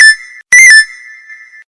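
A mobile phone rings with a bright electronic ringtone: a sustained tone, a short break, then a burst of warbling notes that settles into another held tone before stopping. It is loud and close, with no talking.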